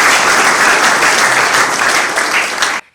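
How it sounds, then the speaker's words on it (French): Dense, loud applause from an audience at a professional orientation session, sustained clapping that cuts off abruptly at the end. "Donc, on retrouve applaudissements pour"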